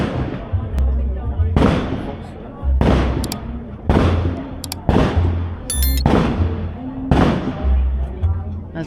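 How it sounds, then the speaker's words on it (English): Gunshots ring out at a 1940s re-enactment weekend in Ingleton: about seven sharp, loud blank-fire bangs, each followed by a short echoing tail, spaced roughly a second apart over a crowd's background voices. "There's the sound of them shooting anybody who won't buy a raffle ticket"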